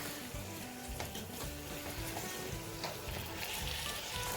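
Spices and tomato puree are stirred in a pan for beef keema karahi, giving a soft, continuous sizzle with faint scraping and no speech.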